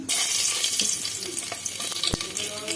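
Cloves, cardamom, cinnamon and onion sizzle in hot mustard oil inside a pressure cooker, a loud, close, steady frying hiss with light stirring scrapes and one sharp click.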